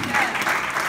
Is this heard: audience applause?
yes